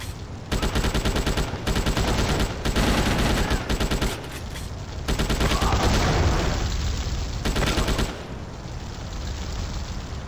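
Rapid AK-47 automatic fire in GTA Chinatown Wars, a loud, dense stream of shots in several long bursts with brief gaps, heavy and continuous for most of the stretch.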